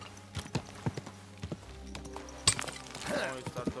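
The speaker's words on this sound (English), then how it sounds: "Good horse." A horse's hooves clip-clop in a sparse, uneven rhythm in the medieval video game Kingdom Come, with soft game sounds and some speech over them.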